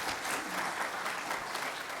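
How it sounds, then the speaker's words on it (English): A congregation applauds in a church service, a dense, steady wash of many hands clapping together at moderate distance, sustained without a break and with no voices standing out. "Why don't you give yourselves a round of applause?"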